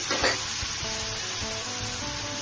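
Garlic ginger paste hits hot oil with a loud burst of sizzling, then settles into a steady hiss with soft bubbling for the rest of the short moment, in a home kitchen making prawn tondli curry.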